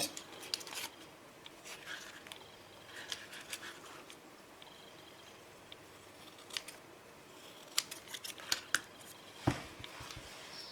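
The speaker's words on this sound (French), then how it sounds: "Donc maintenant je vais couper les excédents." Scissors trim excess material from a glued leather steampunk album page, giving scattered small snips and clicks that grow more pronounced toward the end, close and quiet with no talking.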